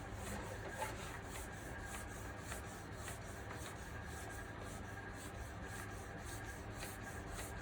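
Steady rhythmic sanding rubs across the lacquered paint of a black MK2 Golf GTI 16v, repeating back-and-forth strokes heard up close and continuous without any voices.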